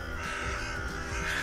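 Several crows caw noisily over a steady background hum, calls overlapping in a busy, continuous chorus.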